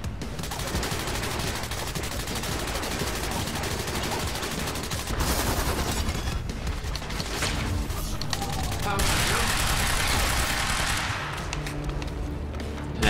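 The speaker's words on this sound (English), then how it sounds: "What are you shooting at?" Rapid gunfire in Quantum Break, sustained bursts of automatic shots and heavy booms rattling continuously through a loud firefight, with dense noisy effects and no speech.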